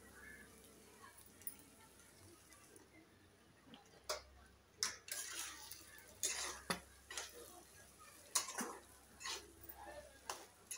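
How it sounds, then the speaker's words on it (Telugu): Egg fry being mixed in a pan, with scattered clinks and scrapes of a utensil against the pan at an uneven pace, fairly faint, over a low steady background hum. "ఇలా కలుపుకోవాలండి."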